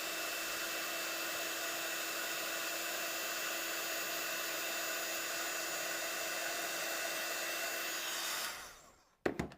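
A heat gun blows steadily close up while heating embossing powder on a gilded Christmas card, a continuous broadband whoosh with a faint hum that runs for about eight seconds and then cuts off abruptly.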